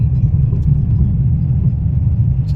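A car engine runs steadily in second gear while a beginner drives on a road, giving a loud, continuous low rumble with no clear revving and only faint background sounds.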